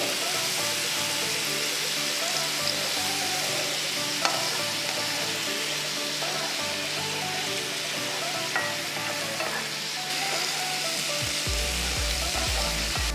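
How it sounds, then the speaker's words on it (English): Marinated paneer pieces fry in a little oil over a high flame, giving a loud, continuous sizzle that stays steady throughout with small pops and stirring clicks. "Now add the marinated paneer pieces. Cook the paneer for about 5 minutes on high flame."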